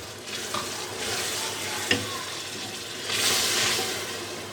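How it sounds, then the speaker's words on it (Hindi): Beef paya masala fries in a pan with yogurt added, giving a steady sizzle with stirring scrapes, one sharp knock near the middle and a louder hiss swelling toward the end. "इसको भी हम दही डाल के मसाला भून लेंगे।"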